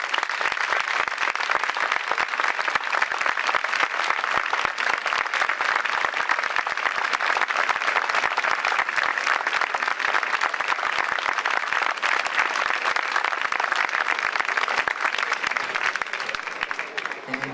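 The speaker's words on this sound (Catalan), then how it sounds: "Un aplaudiment per a ells, per favor" A concert audience gives a band sustained, dense applause, many hands clapping loudly and steadily throughout before thinning slightly at the end.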